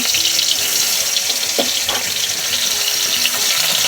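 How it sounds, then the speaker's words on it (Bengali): Paneer fries in hot oil in a wok with a continuous, hissing sizzle close by. A few faint clinks sound under it, and no one speaks. "অল্প অল্প করে ভেজে নেব"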